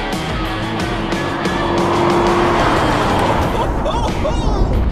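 Ford Mustang engine under hard acceleration while racing, a loud close roar with rising revs and tire noise. Someone talks excitedly over it.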